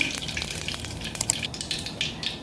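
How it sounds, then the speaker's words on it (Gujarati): Mustard seeds popping and crackling in hot oil in a Gujarati home kitchen while preparing stuffed brinjal curry, a dense run of sharp, quick crackles over a steady frying sizzle, close and moderately loud. "રાય ફૂટી ગઈ"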